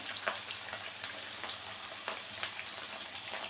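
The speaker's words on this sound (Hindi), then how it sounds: "इनको हम आहिस्ता आहिस्ता फ्राई होने देंगे हल्की आंच पर।" Beef kofta balls fry gently in ghee over low heat, giving a steady close sizzle with small crackling pops throughout and no talking.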